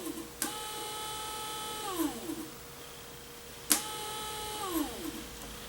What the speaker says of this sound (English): I hear the motor working, although I don't see the gearbox or the gear turning.